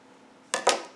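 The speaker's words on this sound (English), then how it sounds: "I'm going to cut my previous colored yarn." Scissors snip yarn during crochet work, two quick, close, crisp cuts in an otherwise quiet room.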